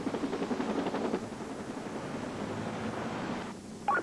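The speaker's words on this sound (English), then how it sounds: "I immediately bring the helicopter to a hover to take pictures of the arrest." Steady rotor drone of a helicopter hovering, a continuous broadband roar with faint chopping, constant throughout with a small bump near the end.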